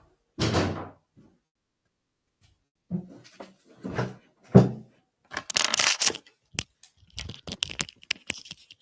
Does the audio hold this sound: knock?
yes